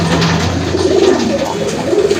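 A pair of racing pigeons coo close by in low, repeated throaty calls over a continuous background hum.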